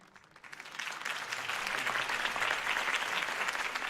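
A crowd applauds a campaign speech for a city election, clapping that swells in over the first half second and then holds as dense, steady applause at a moderate distance.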